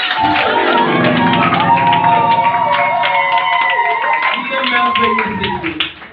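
Church congregation at a Sunday evangelical gathering bursting into loud, continuous clapping and cheering, a dense wash of applause and shouts sustained for several seconds before easing off at the end.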